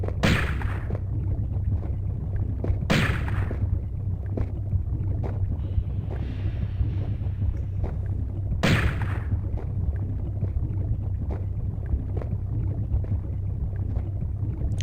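Magnum pistol gunfire in the classic Tomb Raider video game, three loud sharp shots spaced several seconds apart over a steady droning background.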